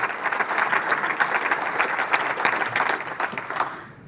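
Steady audience applause at a leadership talk, dense clapping from a crowd that holds for several seconds and then tapers off at the end.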